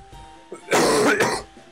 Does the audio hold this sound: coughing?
yes